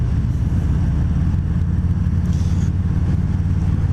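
A 2020 Harley-Davidson Fat Boy 114 (FLFBS) being ridden, with a steady, loud, low engine rumble running throughout and no talk.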